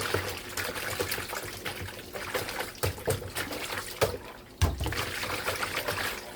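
Water trickles and splashes steadily as tulingan fish is rinsed clean in a basin, with a few sharper splashes and clatters breaking the continuous flow.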